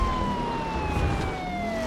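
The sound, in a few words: police jeep siren in video game The Crew 2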